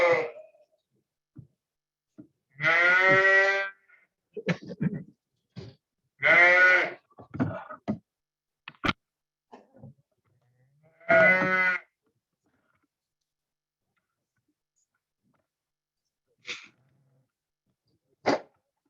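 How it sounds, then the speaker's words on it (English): Ewes that lambed in the fall bleat in a barn or pen, several loud, drawn-out calls spaced several seconds apart, with scattered small thumps and shuffles between them and no talking. "so these are ewes that lambed in the fall"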